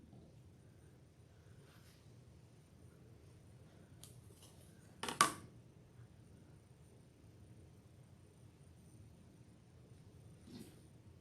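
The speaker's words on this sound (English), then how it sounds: "Then we're going to cut a straight line." Scissors or a rotary blade slice once through quilting fabric along a straight line, a single sharp crisp cut amid near silence, with a few faint soft handling clicks before and after.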